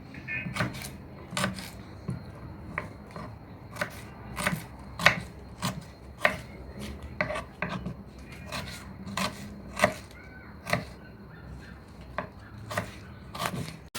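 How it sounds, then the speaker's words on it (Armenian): A knife chops onion finely on a board with steady, evenly spaced sharp taps, close and clear over a low background rumble. "Հիմա կտրատում եմ սոխը մանր"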